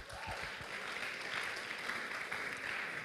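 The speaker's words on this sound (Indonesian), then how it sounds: "Tepuk tangan buat dosen." Dense, steady applause from an audience honoring the lecturers at a classical vocal lecture recital, filling the room evenly for about three seconds with no speech.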